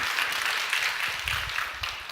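Audience applause fills a church hall during a Sunday worship lecture, a dense, steady patter of many hands clapping that holds evenly throughout.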